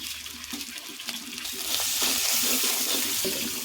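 A little water is poured into a pan of fish curry with turmeric, chili, coriander and cumin powders, giving a steady, close rushing pour that swells partway through and runs on alone.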